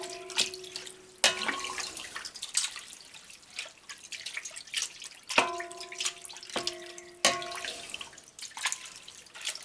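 Sheep milk curds for Gouda cheese are stirred in a pot of whey, with gentle sloshing and dripping punctuated by ringing metallic clinks of the utensil against the pot.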